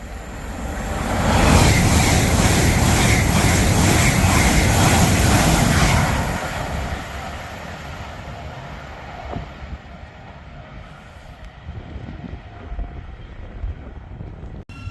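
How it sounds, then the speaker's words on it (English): An LNER Class 800 train racing past at speed on the East Coast Main Line at Biggleswade, a loud roaring rush that swells in quickly, holds for several seconds, then fades away into quieter background rumble. "The next train to pass by is going to be a LNER Class 800 Zoomer from London King's Cross to"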